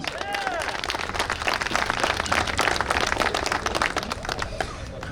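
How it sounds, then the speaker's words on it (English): A crowd applauds a senator at an outdoor Thanksgiving parade in New Caney, with steady dense clapping and cheering that holds for about five seconds. "Give him a round of applause."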